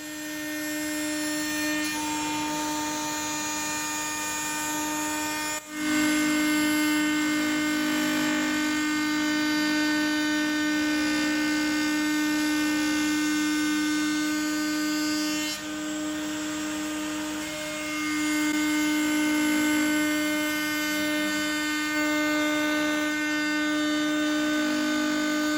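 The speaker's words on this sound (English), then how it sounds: "I also used the router table to cut the groove for the bottom shelf, which was made from 19mm pine." A router table cuts a groove in 19mm pine, a loud, continuous high-pitched motor whine with a steady tonal hum, a brief dip near the start and slight shifts in pitch as the wood feeds through.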